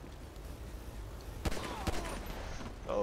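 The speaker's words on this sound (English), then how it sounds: "Shots fired." Gunfire in GTA V: two sharp, faint shots about half a second apart, heard far off over a low background rumble.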